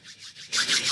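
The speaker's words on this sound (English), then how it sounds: "Rubbing the palms together." Palms of the hands rubbed together during a guided meditation session, a soft dry swishing that comes in repeated strokes, quieter at first and then louder and faster, heard close up with no talking.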